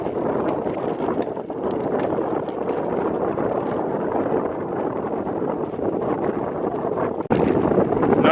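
Heavy wind buffeting a camera microphone while riding a bicycle on a training route, a loud continuous roar and rumble that stays strong throughout, with a sharp knock near the end.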